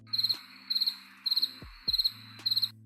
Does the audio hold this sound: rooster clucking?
no